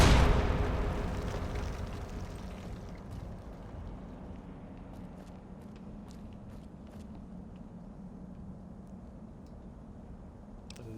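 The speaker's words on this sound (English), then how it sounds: "Oh, it's grenades." A grenade exploding in the video game Fallout: New Vegas, a loud blast at the start that decays into a long fading rumble with scattered small clicks and debris sounds afterward.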